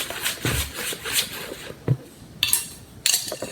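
A utensil works blondie batter with salt added in a bowl, giving soft thick scraping strokes and a few sharp clinks against the bowl's side, close and moderately quiet.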